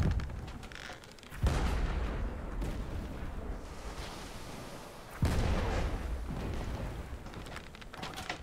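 Two deep booming ship cannon shots from the Blazing Sails video game, each followed by a rumbling roar that trails off. The blasts are loud and spaced several seconds apart with no talking.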